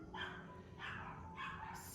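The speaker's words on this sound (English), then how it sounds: "Excuse the dogs." Dogs bark somewhere in the background, three faint, evenly spaced barks in quick succession.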